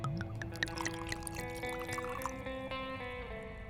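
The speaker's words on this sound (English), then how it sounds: "Bottle uncorks, liquid pours." Liquid pours from a freshly uncorked bottle into a glass in a tavern, a close, gurgling trickle with a rising ringing tone as the glass fills, with faint clinks, no voices.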